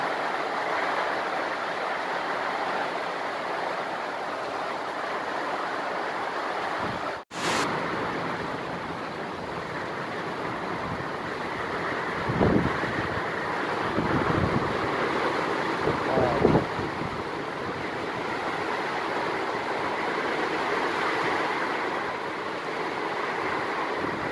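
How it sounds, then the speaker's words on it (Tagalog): Strong, steady swirling wind of Typhoon Kristine in Calamba, Laguna, roaring and gusting for a long stretch, with a sudden brief dropout and a few heavier surges midway, no voices. "Umiikot ang hangin."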